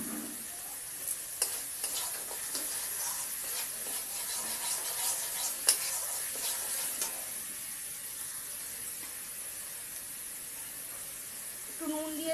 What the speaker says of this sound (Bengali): ভালো করে কষতে হবে, না হলে কাঁচা পেঁয়াজ, কাঁচা মশলা,